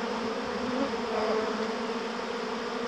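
A dense swarm of honeybees hums loudly and steadily while a colony is moved from a board into a hive, the buzzing close and continuous with no pauses.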